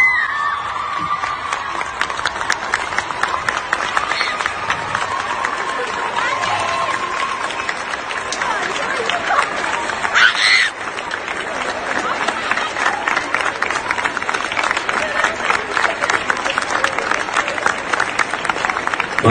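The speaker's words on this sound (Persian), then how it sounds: "به اندازه 30 ثانیه همون جایی که هستید ایستاده تشویقشون کنیم" Concert crowd standing and applauding for about thirty seconds, dense sustained clapping with scattered cheers and whoops filling a large hall, steady and loud throughout.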